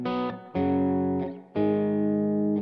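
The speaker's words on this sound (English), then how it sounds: "So I like a spring reverb, which sounds like this." Electric guitar chords strummed three times through a Source Audio Collider pedal on spring reverb, each ringing out with a bright, splashy reverb tail before the next.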